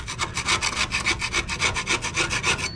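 Barnacles are scraped off the aluminum hull of an inflatable boat with a sharp scraper, about a dozen rhythmic rasping strokes in quick succession, close and clear with no talk.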